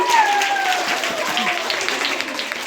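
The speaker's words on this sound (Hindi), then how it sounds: "चलो उमा के लिए तालियां बजाओ सभी।" Audience applause for a blind woman student being welcomed at a gathering, a steady wash of clapping heard close, with some voices mixed in.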